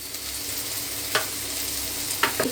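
Spices with coriander powder stirred in a frying pan for stuffed kakrol: a steady sizzle runs throughout, broken by a few sharp spoon scrapes near the middle and end, with no talking.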